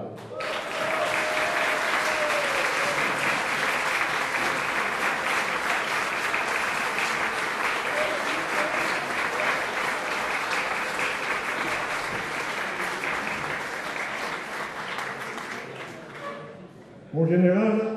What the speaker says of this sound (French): je vais vous citer un anniversaire plus joyeux, pour lequel je vous demanderai d'applaudir